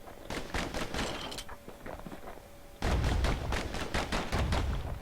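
Dual slinger pistols fire in the video game Bastion, rapid sharp shots in clustered volleys, growing heavier and louder partway through.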